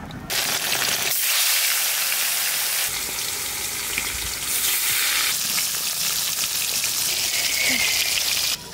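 Shol fish fry loudly in hot mustard oil in a wok, a steady close sizzle and crackle that swells and shifts in intensity as the pieces settle and are moved, with no talking.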